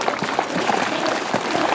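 An outdoor audience at a horse-drawn carriage competition in Lubostroń applauds a carriage team, giving a brief, dense, even burst of clapping with no talk.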